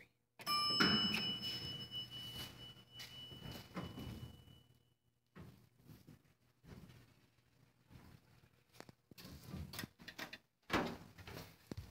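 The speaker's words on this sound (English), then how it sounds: "This is the elevator at Linden Oaks in Gladstone, Missouri." American hydraulic elevator at Linden Oaks in Gladstone, Missouri, with a glitchy door: a clear arrival chime rings near the start, followed by rumbling and clunking door movement in several bursts separated by quiet gaps.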